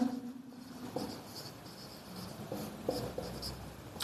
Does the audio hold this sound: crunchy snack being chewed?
no